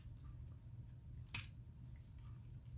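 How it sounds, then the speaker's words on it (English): A single crisp snip of scissors trimming excess card paper for a shaker card, heard once midway through an otherwise quiet room hum. "I'm going to trim off some of that excess"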